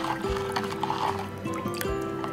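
Water poured into a bowl of banana stem buttermilk, a steady liquid fill with a few splashy bursts heard up close, with no talking.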